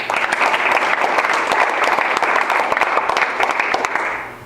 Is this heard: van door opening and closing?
no